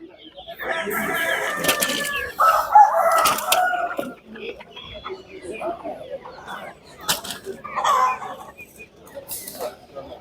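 Roosters crow repeatedly at a chicken and small-livestock market in Tuzla, Istanbul, several long calls rising over clucking fowl and general market bustle, with people talking nearby.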